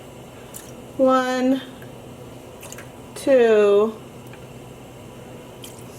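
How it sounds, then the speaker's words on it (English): Vinegar is poured into a dye pot in two short bursts. Each pour is a bright gurgling fill whose pitch rises as the stream runs, over a low background hum, while a voice counts aloud. "While we're heating up, let's add some more vinegar."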